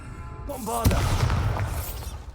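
Bombarda blasting curse going off in a Harry Potter video game: after a brief vocal sound, a single loud booming blast rings out, followed by a rumbling, crackling tail of debris.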